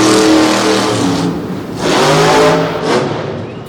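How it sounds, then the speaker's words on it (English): Monster truck with a 557 cubic inch Metal Shop engine roaring loudly and continuously at a freestyle event, the revs dipping briefly and surging back up twice. "557 cubic inch Metal Shop engine in the back"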